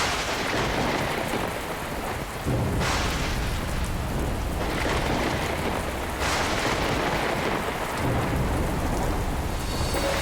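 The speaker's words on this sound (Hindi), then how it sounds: "ये वर्षा तो रुकने का नाम ही नहीं ले रही।" Heavy rain pours down in a continuous loud roar, broken by several deep rolling thunder rumbles. No voices are heard, and the downpour fills the whole stretch.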